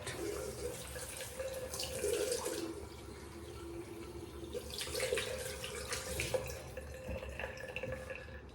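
Tap water runs steadily while a straight razor is rinsed under it, a continuous close splashing hiss with brief louder surges of flow and drips, no voices over it.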